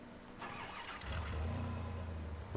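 A bus engine cranks and catches, then settles into a steady low rumble that grows louder and continues without talk.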